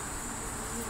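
Bees buzz around a beehive in a brief, faint, steady drone with no talking.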